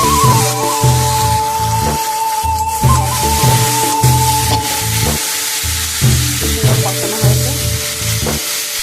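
Spice masala for a fish curry sautés loudly in a pan, a constant close sizzle broken by repeated rhythmic scraping strokes of a spatula and a faint ringing tone underneath.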